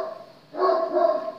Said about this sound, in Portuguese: Esse cachorro que tá latindo aí é da vizinha, é meu.